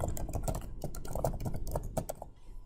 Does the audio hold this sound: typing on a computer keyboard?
yes